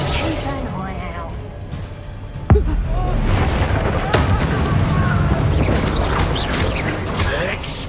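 A Bombarda spell blast in the Hogwarts Legacy video game, one sharp booming impact followed by rumbling debris and combat effects, with voices and busy battle noise around it.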